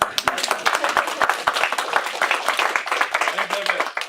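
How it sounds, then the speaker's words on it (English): Audience at a museum opening reception claps together, a dense run of sharp hand claps at close range, uneven and lively, with a voice speaking over part of it. "And let's all of us applaud together."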